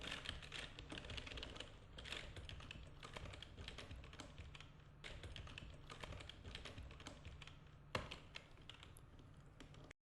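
Quiet, rapid typing on a computer keyboard, a continuous stream of soft key taps with one sharper keystroke near the end and no voices.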